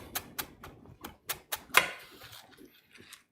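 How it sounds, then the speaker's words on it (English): A knife dices chives on a cutting board in a burger-making kitchen, giving a run of sharp, evenly spaced chops that then fade to lighter taps. "So now to finish the tots, we will take some chives. Quickly dice these up."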